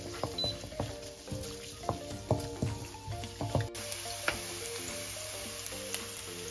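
Garlic and ginger frying in a pan while being stirred, a steady close sizzle broken by irregular scraping clacks of the spoon against the pan, with no voices.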